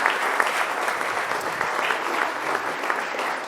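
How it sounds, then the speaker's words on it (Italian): A studio audience applauding the aerobics girls at a sports television show, a steady burst of many hands clapping, fairly close and continuous. "ancora un applauso alle ragazze dell'aerobica"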